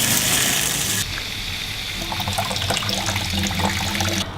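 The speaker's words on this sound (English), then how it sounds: "If we turn the tap on," A tap runs water through a clamped garden hose in a steady, loud rushing flow, the pitch shifting slightly as the flow settles after about a second.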